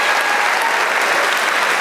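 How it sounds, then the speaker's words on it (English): An audience applauds teachers at a school district convocation, a dense, even wash of many hands clapping that stays loud and steady across the brief stretch, with no voices standing out. "Give them a huge round of applause."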